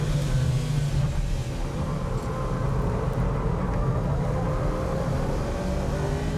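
A Mitsubishi Evo and a Subaru Impreza race closely on a circuit, their engines roaring in a steady, dense drone that stays loud and unbroken throughout, with no speech.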